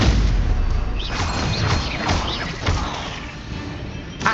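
Combat spell blasts from Hogwarts Legacy, including the Stupefy stunning spell: a dense wash of booming, crackling magic with faint whooshing streaks, continuous and fairly loud.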